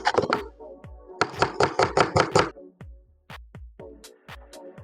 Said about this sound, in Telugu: కట్ చేసుకుని ఉల్లిపాయలు నాలుగు ఉల్లిపాయలు